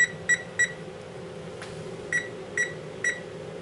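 Kitchen oven timer being set after brownies go in to bake, giving six short electronic beeps in two groups of three, clear over a steady low hum.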